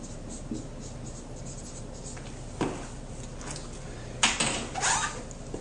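A pen scratches across paper while a conclusion is written down, quiet and intermittent strokes with a couple of louder scrapes near the end.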